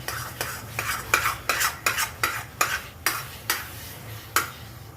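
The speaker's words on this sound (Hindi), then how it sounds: "लगातार चलाते ही रहना है, वरना चिपक जाता है।" Carrot halwa with khoya stirred in a pan, about a dozen rhythmic scraping strokes of a spoon at an even pace, close and clear over a low sizzle, no talk.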